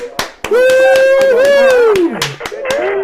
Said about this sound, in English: How about a big round of applause for Tarek, everybody?